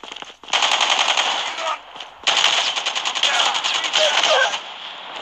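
Rapid machine-gun bursts from the mobile shooter game Call of Duty Mobile, loud and close, firing in long continuous rattles with a short pause between volleys.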